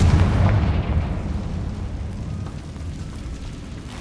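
Confringo blasting spell explosion in Hogwarts Legacy, a single heavy, booming blast that rolls out and slowly decays into a low rumble, with no talk over it.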